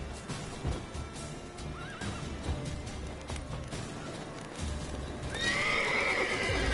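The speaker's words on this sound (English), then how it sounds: "Get on the horse." Horse from The Witcher 3 video game gives a loud, close whinny near the end, over a steady clip-clop of hooves and busy game ambience throughout.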